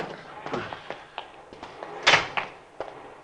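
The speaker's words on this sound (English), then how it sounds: "He's forcing the door." Old-time radio drama effect of a car door, apparently a Cadillac's, being forced open at night: a run of scattered thumps and taps topped by one louder rattling clunk near the middle, with no talk.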